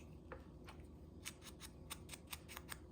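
Scissors snipping a tiny bit of paper while making crafted accordion labels, a series of faint, crisp little cuts in a quiet room.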